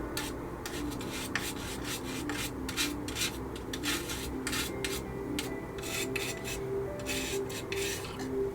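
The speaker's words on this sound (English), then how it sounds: "I like the idea of just a little bit of the paint being scraped away in some spots, just to show a little bit of wear." Paint is scraped off a 1/32 scale P-40E Warhawk model plane to show wear: quick, faint, rasping strokes repeat in an uneven rhythm with short gaps and no voices.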